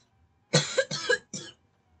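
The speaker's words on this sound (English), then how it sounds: "Sorry, coughing." One person coughs three times in quick succession, close and fairly loud, with two heavy barks followed by a shorter third, surrounded by near silence.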